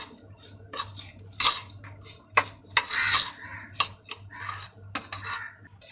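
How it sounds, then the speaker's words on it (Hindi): Onion, black pepper powder and salt stirred together in a bowl for a mini pizza topping, giving irregular clinks and scrapes of a spoon against the dish in short bursts, close and fairly clear with no talking. "प्याज, काली मिर्च का पाउडर, नमक, अच्छी तरह मिक्स कर लेंगे।"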